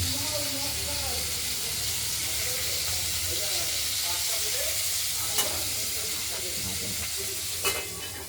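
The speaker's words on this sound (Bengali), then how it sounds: "পটলগুলোকে ভালো করে ভাজা করতে হবে" Pointed gourd (potol) pieces fry and sizzle in a pan for an aloo-potol curry, a steady close hiss with occasional stirring scrapes and a couple of sharp clinks, continuous throughout.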